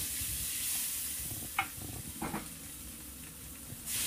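Shredded king oyster mushrooms sauté in a hot pan for pasta with a continuous hiss and sizzle, marked by a few sharp stirring scrapes near the middle and no talking.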